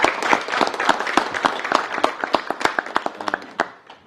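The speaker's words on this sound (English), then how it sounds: "y'all can clap as we go" Audience at a county fiscal court meeting claps for honorees, a fairly small crowd giving a steady round of applause that thins out into a few scattered claps and stops.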